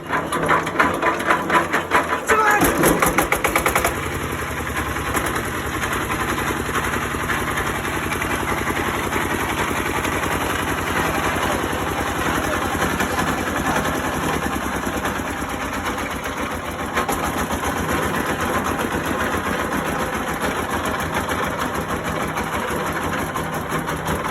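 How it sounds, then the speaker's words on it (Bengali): A second-hand self-start generator engine cranks with a loud, rapid burst of firing at the start, then settles into a steady, close, continuous idle that keeps running without a break. "আপনারা দেখলেন যে ইঞ্জিনের সাউন্ড কোয়ালিটি মোটামুটি ভালো আছে"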